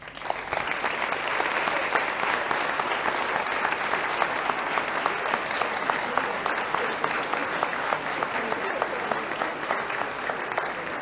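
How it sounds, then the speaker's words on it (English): At a school conference ceremony, an audience gives sustained applause to welcome the flags. The clapping is dense and steady throughout, with no talking. "Let us welcome each of the flags with an applause."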